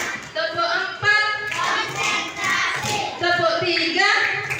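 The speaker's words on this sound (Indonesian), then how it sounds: "Tepuk 1, tepuk 2, tepuk 3, tepuk 4" Schoolchildren in a classroom clap their hands in counted rhythmic groups while chanting together, with sharp claps sounding close and fairly loud under the children's voices.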